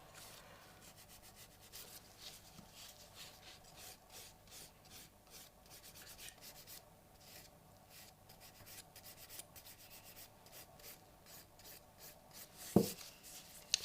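Steady rasping strokes of a 240 grit nail file working over an acrylic nail, soft and close, a continuous scratchy rubbing with a louder scrape near the end.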